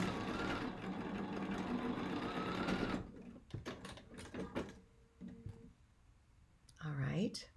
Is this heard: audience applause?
no